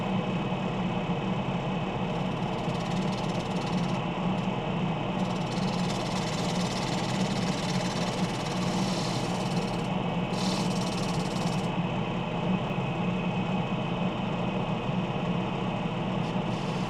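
A wood lathe turns a lid and finial while a 1/2 inch spindle gouge cuts, making a steady, continuous motor drone with a broad hiss running evenly throughout, with no voices.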